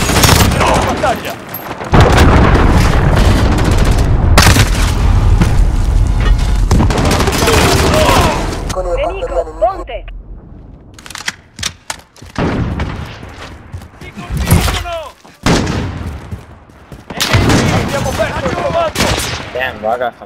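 Explosions and bursts of gunfire erupt loudly in Call of Duty Modern Warfare as a cruise missile strikes, a dense barrage of booms and rapid shots that later thins into scattered blasts, with voices talking over the action.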